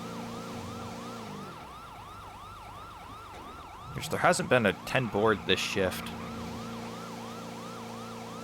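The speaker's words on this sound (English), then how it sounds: "Get my annoying siren on." An EMS vehicle siren in a video game wails in a steady repeating rise-and-fall, loud and close, and switches to a faster yelp pattern partway through. Someone talks over it.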